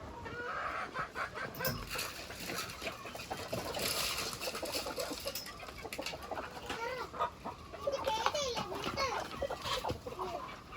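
Chickens in a backyard coop, a mother hen among many chicks, clucking and cheeping continuously nearby while a person talks over them.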